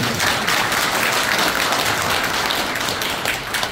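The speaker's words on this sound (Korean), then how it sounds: "박수 부탁드립니다." Sustained applause from a crowd at a Pocheon members' assembly of the Bareunsalgi civic movement, dense and steady throughout with no break.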